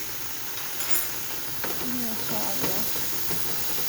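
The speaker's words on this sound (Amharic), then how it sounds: "መኮረኒ እዚጋ እየበሰለ ነው፣" Macaroni cooking in a pot at home gives a steady steamy hiss with soft bubbling, constant and close, with a few faint clinks and brief voice-like sounds in the background.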